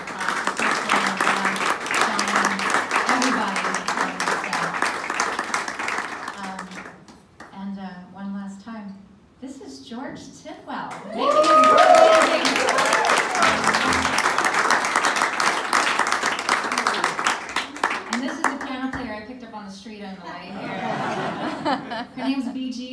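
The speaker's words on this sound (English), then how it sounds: "So big round of applause." An audience at the Birdland Theater claps and cheers in two sustained waves of applause with some laughter, broken by a stretch of someone speaking over a quiet room.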